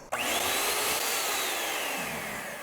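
Electric hand mixer whipping strawberry honey butter, starting abruptly and holding a loud, steady high motor whine with churning for a few seconds, close by, no talk.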